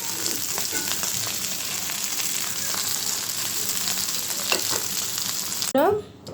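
Small puti and tengra fish sizzle steadily in a hot pan with a dense, crackling hiss, and a short metallic clatter of utensils comes near the end.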